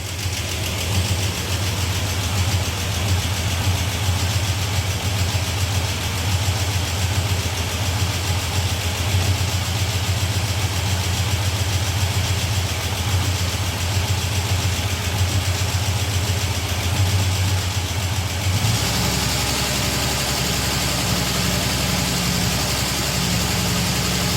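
A Chrysler Valiant AP6 engine idles steadily and loudly with a constant low rumble, its tone shifting slightly near the end; no one speaks.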